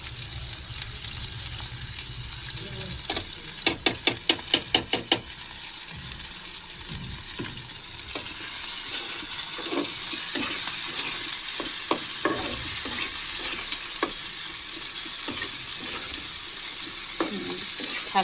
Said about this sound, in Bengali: খাসির ভুঁড়ি ভাজা এখন